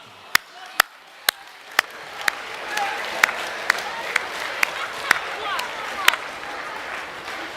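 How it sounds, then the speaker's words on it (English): Audience applause for a student named Julie at a school academic awards assembly for Years 8 and 9: sharp, evenly spaced single claps over a growing wash of clapping from the crowd. "give Julie a clap"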